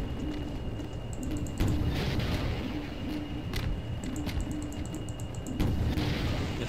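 Rapid gunfire in the video game Half-Life 2 while shooting down an enemy, heard as repeated bursts of sharp shots over a dense, rumbling game soundscape, with no talk.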